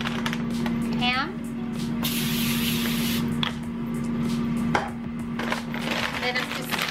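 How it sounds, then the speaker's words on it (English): Nonstick cooking spray hisses onto a small foil-lined tray in a home kitchen, one sustained burst of about a second and a half, near and clear, amid faint kitchen clatter. "Then I spray it with some nonstick"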